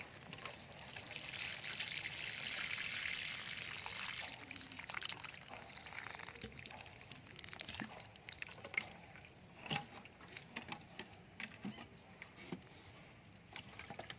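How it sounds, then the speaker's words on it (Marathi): Water is poured onto a newly planted balsam plant in fresh soil, producing a soft, steady trickle for several seconds that then breaks into faint drips and small splashes, quiet and close. "आता थोडं पाणी घालायचं"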